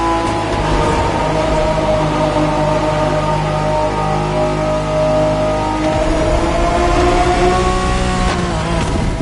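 Liberty Walk version of a 1992 Honda NSX racing in the game Motorfest, its engine holding a loud, steady high-pitched drone with layered harmonics, rising slightly near the end, with no talk over it.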